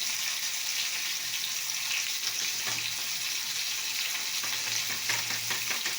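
Cumin seeds hiss and sizzle steadily in hot oil over a pan, a continuous close frying crackle with faint stirring scrapes and no talk.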